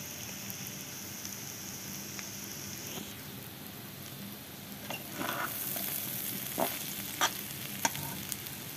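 Chicken biryani cooking in a pot, with a soft steady sizzle and scattered stirring scrapes and clinks that grow busier in the second half, heard alone without talk.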